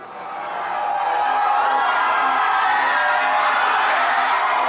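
A large crowd roars and cheers at a conservative rally, the noise swelling over the first second and then holding as a loud, dense, sustained wash of voices and whoops.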